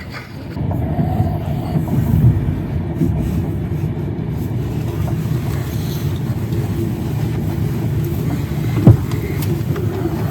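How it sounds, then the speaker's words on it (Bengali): A passenger express train rolls into Dankuni junction with a loud, steady low rumble and a faint clatter of wheels on rail, plus one brief sharp knock near the end. No voices are heard. "ট্রেন ঢুকলো ডানকুনি জংশন"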